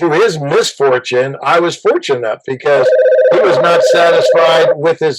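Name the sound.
telephone ringing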